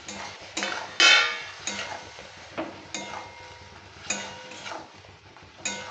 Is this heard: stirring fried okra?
yes